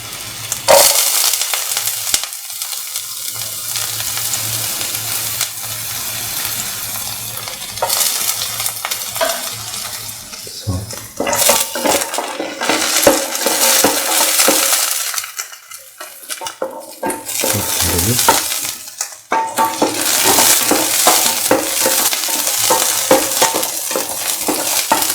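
Onion pieces fry in a pan for plantain rice, a close crackling sizzle broken by repeated scraping and clinks of a spoon against the metal, uneven in loudness, with no talking.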